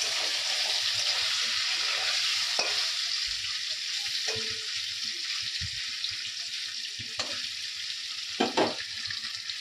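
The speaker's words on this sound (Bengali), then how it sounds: "এখন পনিরটা আমি ভাজবো" Paneer frying in a pan in a home kitchen, a continuous bright sizzle with occasional soft clinks and stirring knocks, steady and fairly close, without speech.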